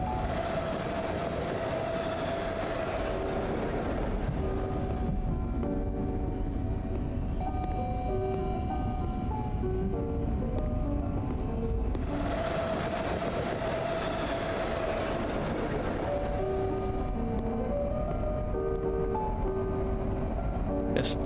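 A train in the horror game When the Darkness Comes passes with a steady, loud rumbling roar and faint tonal whines that swell and fade over about twenty seconds.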